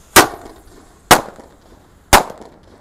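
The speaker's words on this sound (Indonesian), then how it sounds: "ini ada mercon kera raja, kita nyalakan 4 sekaligus guys" Three sharp firecracker bangs from 'kera raja' firecrackers, loud and close, spaced about a second apart in an even rhythm, each a crisp crack with a short decay and no voices in between.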